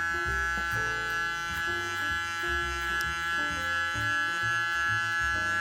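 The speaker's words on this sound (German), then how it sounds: "Die feinen Härchen, die noch leicht abstehen, nehmen wir einfach mit der Maschine weg." A Panasonic electric beard trimmer runs with a steady, close buzzing hum as it removes stray hairs from a full beard, the motor tone shifting slightly as it contacts the hair.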